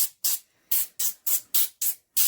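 Seven quick bursts from a cooking spray bottle, each a sharp hiss, fired close up in a fairly even rhythm with short silent gaps between.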